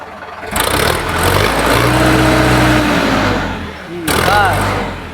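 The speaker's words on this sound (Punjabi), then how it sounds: "ਫੁੱਲ ਰੇਸ ਦੇ ਦੇ ਦੇ" An Indo Farm tractor diesel engine, close and loud, revs up to full throttle and holds a steady roar, drops briefly, then surges again, with a voice calling out over it.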